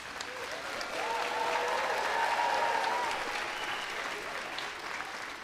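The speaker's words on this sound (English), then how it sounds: "So you guys deserve a round of applause, and I want to hear some yelling from you guys." Audience at a high school scholarship and awards night applauding, a steady wash of clapping at moderate distance with some cheering and voices blended in, swelling then easing.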